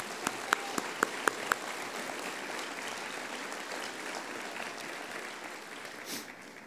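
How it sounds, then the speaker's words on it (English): Audience applause fills a hall during a city's State of the City address, beginning with several sharp individual claps before settling into a steady, moderately soft ovation that continues to the end. "I would like to acknowledge it with a round of applause"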